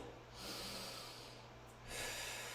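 Breathing during a Pilates flow exercise: quiet, close breaths drawn through the nose with a slight snort, two long inhale-exhale swells over a low steady hum.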